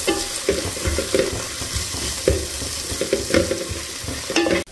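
Fenugreek dal ingredients roast slowly in a pan over low heat, giving a continuous close crackle and sizzle broken by repeated scraping stirs, with a clatter at the very end.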